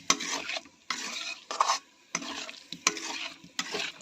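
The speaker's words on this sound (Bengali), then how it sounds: "একটু নাড়াচাড়া করে ঢাকা দিয়ে দেবো" Potatoes for aloo dum stirred in a pan over a soft frying sizzle, with several close, rhythmic scraping strokes and brief pauses between them, no voices.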